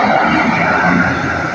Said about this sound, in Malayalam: ഒരു വണ്ടി പോകുന്നു